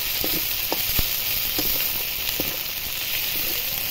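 Spice paste of ground cumin and coriander sizzles steadily in a pan, a constant close hiss with occasional soft scrapes and taps from stirring.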